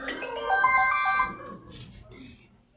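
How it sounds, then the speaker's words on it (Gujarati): A phone ringtone plays a short, bright melodic phrase, fairly loud at first and then fading off, with faint voices in the background. "રોમભાઈનો ફોન"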